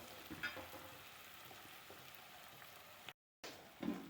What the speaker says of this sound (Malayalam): ഇനി അതിലേക്ക് വറുത്ത് വെച്ചിരിക്കുന്ന ചിക്കൻ ചേർക്കാം